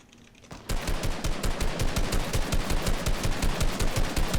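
Rapid automatic gunfire in the Fortnite video game starts after a brief quiet moment, then continues as a loud, fast, steady burst of close shots until the end.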